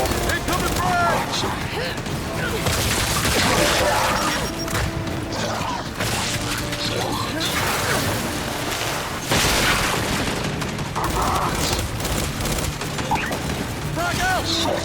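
Explosions and gunfire crash through a Gears 5 firefight, with booms, bursts of shooting and smashing debris running continuously and loud, while voices call out over the combat.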